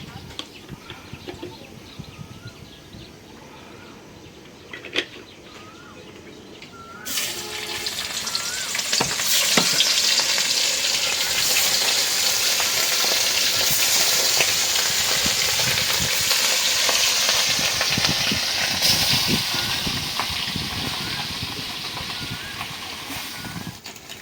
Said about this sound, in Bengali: এই যে কত সুন্দর হলো মাছ ভাজা